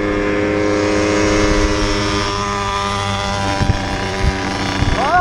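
Moped being run in, a Booster 70cc kit or Rieju Tango with 80cc Polini, accelerating along a road; a loud, continuous two-stroke engine drone with rising pitch as it gathers speed.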